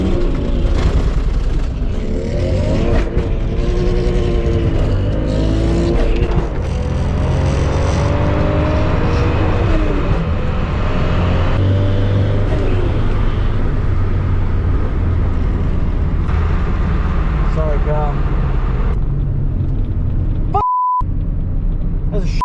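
A Toyota Supra launches down a drag strip, its engine roaring loud and close as it climbs through the gears with rising revs and brief shift breaks, ending in a sudden cutoff.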